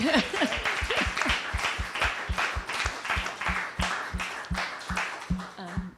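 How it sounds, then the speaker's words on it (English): Audience claps at a talk on faith, reentry and prison reform, a soft moderate patter with a rhythmic beat underneath and a voice speaking briefly at the start. "I feel like that needs a round of applause."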